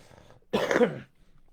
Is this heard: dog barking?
no